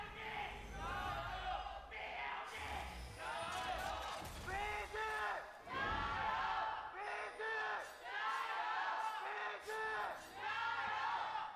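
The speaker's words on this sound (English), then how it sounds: "Our crowd it's gone from week 1 to being very structured, you know, one team chant, the other team chant, to now everyone's just letting loose." A packed esports arena crowd in Shanghai's Hongqiao Arena during a League of Legends match between Bilibili Gaming and Vici Gaming chants and roars in rhythmic waves, loud and sustained, with repeated surging shouts.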